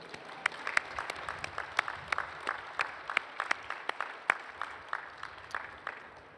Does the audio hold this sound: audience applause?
yes